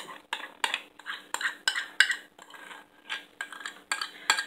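A utensil scrapes and clinks against a dish while pepper and other ingredients are stirred into keto meal-prep food, with about a dozen quick, rhythmic metallic taps and scrapes close up and no talking.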